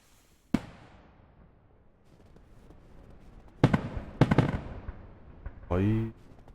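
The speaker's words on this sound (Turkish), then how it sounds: "Ahırın içinde hava fişek patlar mı abi?" Sharp pops and crackling bursts of fireworks go off inside a barn in Ranch Simulator, in quick clusters, followed by a brief humming tone; game-like and fairly close.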